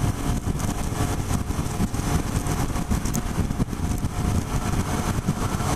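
Suzuki SV650 motorcycle cruising at highway speed in a high gear, a steady loud engine drone mixed with heavy wind rush, continuous and close with no break.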